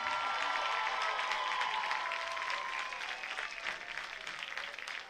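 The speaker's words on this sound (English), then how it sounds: "please give a round of applause to our Mountain Home Bombers 6th grade football teams" A crowd applauds the Mountain Home Bombers 6th grade football teams at a football game, steady clapping and some cheering filling the space loudly for several seconds, then thinning slightly toward the end.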